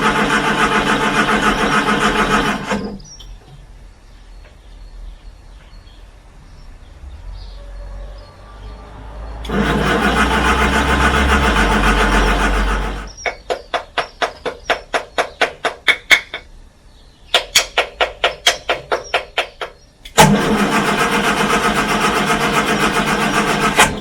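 A Morris Minor engine cranks in a rapid run of rhythmic pulses, set between long stretches of loud, harsh roaring noise that start and stop abruptly.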